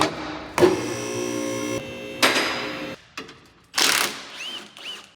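An 8mm socket tool works the transmission pan bolts on a 2015 Ford Expedition, producing several distinct bursts of mechanical ratcheting and whirring, close up and separated by brief pauses.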